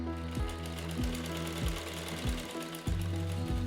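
A sewing machine runs at a rural sewing school, its needle mechanism thumping in a fast, regular rhythmic pattern, close and steady throughout without talking.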